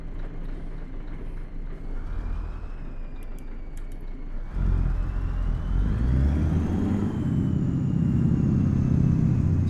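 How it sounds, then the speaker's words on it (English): A heavy-haul truck in Euro Truck Simulator 2, loaded to 39 tons, rumbles with a low, fairly quiet engine drone that steps up louder midway and keeps rising steadily as it pulls away. "this engine's a little on the quiet side."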